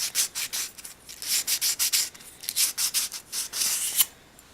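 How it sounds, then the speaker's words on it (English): Sandpaper giving a light scuff sand to the aluminum part of a PC 7539 router, a close series of short rhythmic rubbing strokes, brisk and scratchy, with no talking. "paper and just give that a light scuff sand there"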